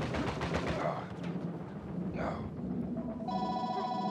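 A phone rings in a repeating electronic tone near the end, cutting over loud gunfire and explosions from an online Uncharted 4 team deathmatch on an island map.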